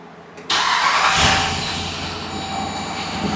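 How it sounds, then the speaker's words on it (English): New starter cranking a 2021 Dodge Durango 5.7 Hemi engine, a sudden loud whirring crank that begins sharply and runs steadily for about three seconds, heard close up. "Turns faster than the old starter did."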